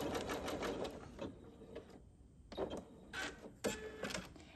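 A Janome MemoryCraft 7700 sewing machine stitches in short bursts, with pauses and irregular mechanical clicks and whirs between them, close and moderately loud, no talking.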